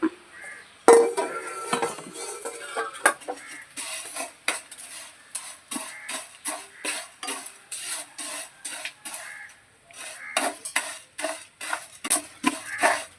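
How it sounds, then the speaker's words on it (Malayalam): Vermicelli roasting in hot ghee in a pan for payasam, with repeated quiet scraping and stirring strokes against the metal and a faint sizzle underneath, close by and steady, with no voices. "നെയ്യ് ചൂടായതിന് ശേഷം ഈ സേമിയ ഒന്ന് വറുത്തെടുക്കാം, റോസ്റ്റ് ചെയ്തെടുക്കാം."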